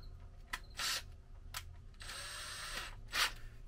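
A drill boring a slightly larger pilot hole for lag screws in wood, heard as several short bursts of whirring followed by one longer steady run, fairly close and with no talk.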